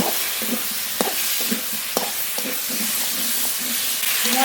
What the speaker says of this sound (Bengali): তার সঙ্গে আলু একটু নেড়ে নেড়ে কষিয়ে নিয়েছি